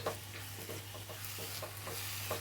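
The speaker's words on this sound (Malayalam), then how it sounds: "കുറച്ച് നാളികേരപ്പാൽ ഒഴിച്ചു കൊടുക്കുന്നു ഒന്ന് ഇളക്കിയിട്ട്" Fish curry with coconut milk being stirred in a pan, a soft steady bubbling sizzle with repeated gentle scraping strokes of the spoon, close and fairly quiet, no talking.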